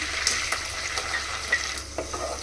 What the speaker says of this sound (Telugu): ఇవి కొంచెం పచ్చివాసన పోయే వరకు ఫ్రై చేసుకోవాలి.